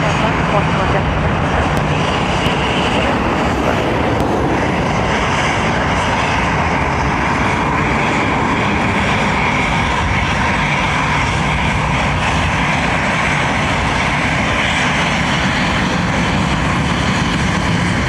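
An airplane arrives at Dublin Airport in high wind, making a steady, loud engine roar that carries for the full eighteen seconds, blended with heavy wind rumble.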